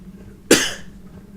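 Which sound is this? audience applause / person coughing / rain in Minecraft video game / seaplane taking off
person coughing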